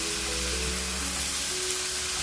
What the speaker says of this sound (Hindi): लहसुन अदरक को थोड़ा सा फ्राई कर लेंगे और साथ ही हम इसमें मीट ऐड कर देंगे